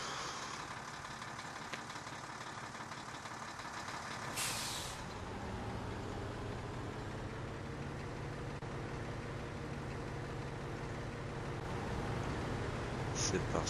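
Bus engine idling and rumbling in a bus simulator game, with a sharp hiss of air brakes releasing once early on, steady and continuous throughout with faint clicks near the end.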